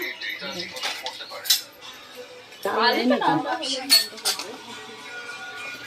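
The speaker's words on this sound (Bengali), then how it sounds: "এই ডাল এটা ঢাকা দিয়ে বসিয়ে দিলাম।" A lid goes onto a pot of dal with metallic clinks and clatter of cookware, close by, while someone talks over the kitchen sounds.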